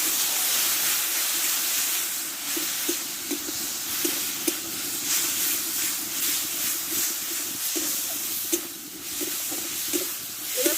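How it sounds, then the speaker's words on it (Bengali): Spice paste frying in a pan for a fish roe curry, a steady sizzling hiss with scattered stirring clicks, close and continuous throughout. "একসঙ্গে ভালো করে মশলাটা কষে নেব অল্প একটু সামান্য জল দেবো"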